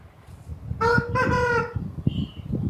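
A Nellore Kondaiah fighting rooster, heavy at about four kilograms and in full fighting condition, gives one loud, close crow over a low rumbling background.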